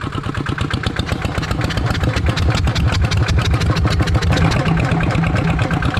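A brand-new NT141 Plus brush cutter's small two-stroke engine runs loud and close, its rapid pulsing firing rising and holding as it revs up, with no voices.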